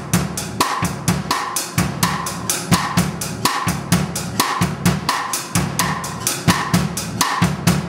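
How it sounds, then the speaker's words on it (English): A drum kit lays down a samba groove: steady eighth-note hi-hat over a repeating bass drum ostinato, with punchy low thumps recurring in a tight loop throughout, played alone and fairly close. "And I'm going to play like a samba ostinato on the bass drum."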